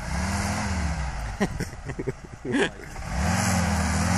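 A 4x4 off-road vehicle engine rumbles and revs steadily at an off-road race, dropping away briefly while a few voices call out, then returning loud and close.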